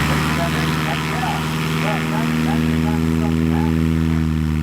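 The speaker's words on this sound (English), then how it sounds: "Clem, stop playing with that motor. That's called the throttle over there." Small propeller airplane engine at an airshow, running steadily close by with a strong droning hum and slight throttle changes, while a voice talks over it.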